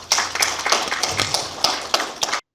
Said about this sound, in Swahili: Kwa hiyo tumpigie makofi jamani Adija.